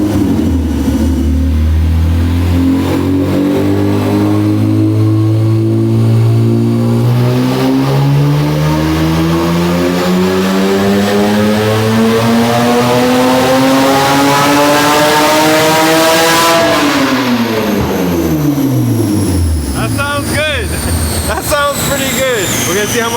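A Honda Civic hatchback with a J32A2 V6, running naturally aspirated on a dyno, revs hard in one long sweep that climbs steadily for about sixteen seconds, then cuts off and winds down. Loud and close throughout, with brief voices near the end.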